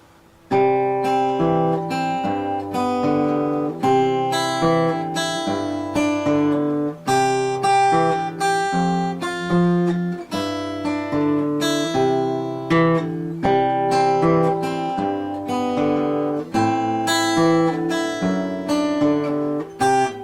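Fingerpicked guitar chords from "Hark the Herald Angels Sing" ring out in a steady, continuous pattern of plucked notes, played alone without any talking.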